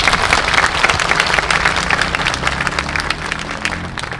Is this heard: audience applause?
yes